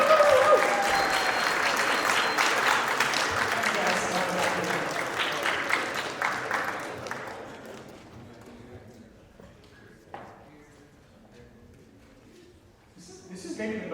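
An audience applauds presenters on stage at a live event, loud sustained clapping with some cheering that gradually fades away, leaving a quiet room with faint movement before noise picks up again.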